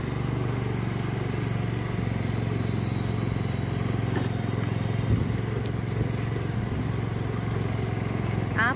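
A scooter ridden slowly during practice, its engine a steady low hum with wind rumble, continuous and close throughout without speech.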